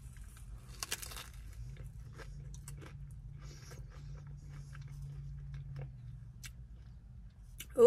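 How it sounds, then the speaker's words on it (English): Crunchy bites and chewing of a Taco Bell Volcano taco with a fiery shell, volcano sauce, lettuce, cheese and beef, close up and fairly quiet, with scattered crisp crunches over a low background hum. "we're gonna eat the taco first"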